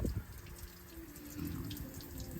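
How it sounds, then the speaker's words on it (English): Water from a hose-fed chassis flush kit dribbling and trickling out of the chassis rails of an N80 Toyota Hilux, a faint steady running-water patter under quiet surroundings. "It's dribbling out of the chassis rails everywhere."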